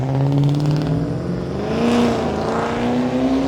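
A Subaru engine revs steadily for a few seconds, a loud continuous droning hum with slowly rising and falling pitch and no speech over it.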